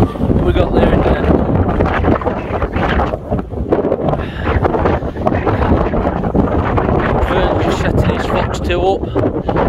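Storm-force wind buffets a Lanshan 2 tent at an exposed wild camp by Crowden Tower, a loud, constant roar and flapping rush right at the microphone, with a voice talking through it.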